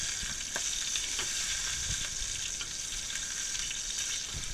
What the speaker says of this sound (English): it's on this second flip that I add the garlic and thyme. A bit of that. And then you can just go ahead and baste